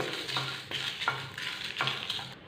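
Dry red chillies roast in a pan with no oil, giving soft rhythmic scraping stir strokes and a faint light sizzle, close and steady with no talking.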